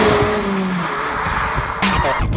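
A 2017 Mazda MX-5 RF roadster driving in Malibu, with steady engine and road noise close by and a brief burst of louder tire or engine sound near the end; no talking.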